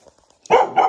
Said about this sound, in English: So I get barked at nonstop every day